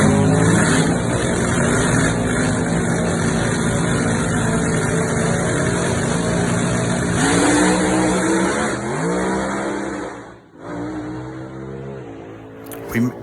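A small block Chevy engine in a race run, loud and close, holding a sustained high-revving roar before the throttle lifts, the pitch dropping as it coasts and then briefly picks up again.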